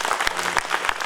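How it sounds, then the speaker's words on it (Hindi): A room of trainees claps for the programme coordinator at an ethics and governance capacity-building talk, a brief, dense burst of close applause with a few sharper individual claps. "मैडम के लिए एक बार ताली बजाएंगे."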